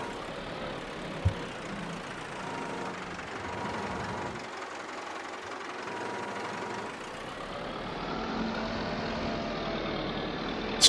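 A tractor engine in a farming video game idles with a steady rumbling drone that dips briefly midway, with a sharp click near the start and another at the very end, and no talking.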